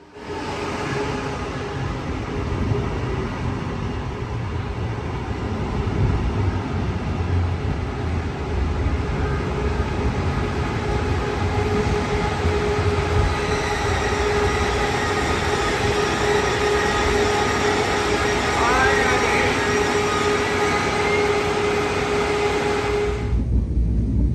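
Steady rumble of a Brightline passenger train rolling along rails near Fort Lauderdale, with a sustained whine and faint squeal building later, continuous and fairly close.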